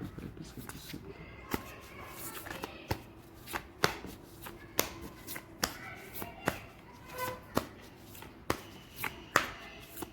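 Angel message cards being shuffled by hand: a steady run of crisp riffling snaps and flicks, close and fairly loud, repeating over about ten seconds, with a faint voice underneath.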